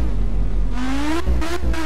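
Modded car engine in the video game My Summer Car, a steady idle that rises into a revving climb with a few sharp throttle blips, loud and close with no talk.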